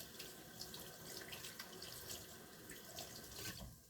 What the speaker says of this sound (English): nice warm water on my freezing cold hands